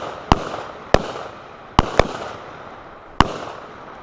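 Five sharp gunshots from a carbine and pistol at an outdoor shooting class crack out at irregular intervals, loud and close, each with a brief decaying echo.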